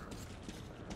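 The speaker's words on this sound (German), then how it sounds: "Wieder nachladen." A shotgun reloads in Metro 2033 Redux: faint metallic creaks and mechanical clicks sit over a dense low rumble of ambient game noise, with no talk.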